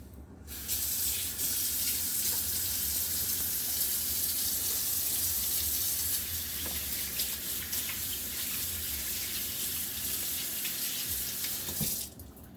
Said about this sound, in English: now I'm going to do the quick washing, and I am going to use my dish soap